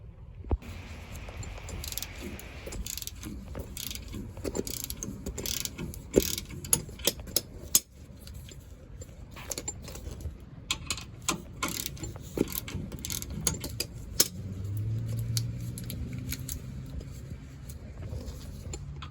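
A wrench loosens the lower rear shock bolt on a 2020 Toyota Tacoma, a long run of close, rapid ratchet clicks in bursts with sharp metallic knocks and short pauses, and no voices.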